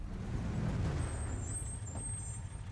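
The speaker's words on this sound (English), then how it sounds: "That truck is so glitchy." A truck in the video game Call of Duty Modern Warfare releases a low, sustained hiss of its air brake over a steady rumble, moderately quiet and alone.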